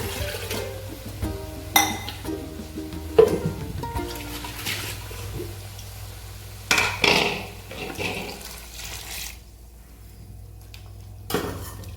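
Water from a mixer jar, carrying leftover coconut paste, splashes into a cooking pot of breadfruit pulisheri, with a few short pouring gushes and clinks in a quiet kitchen.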